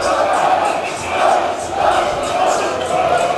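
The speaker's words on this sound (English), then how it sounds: "And this Arapahoe crowd is really into it tonight, Joe." A high school boys basketball playoff crowd at Arapahoe roars and cheers in a gym, a steady broad wash of voices swelling in waves across the whole stretch, with no clear single speaker.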